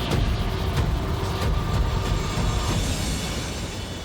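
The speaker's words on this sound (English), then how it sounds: "the semi safely waits for the train to pass" A train rolls past a level crossing in Australia with a semi waiting, a steady close rumble with rhythmic clacks and rattling wagons that eases slightly toward the end.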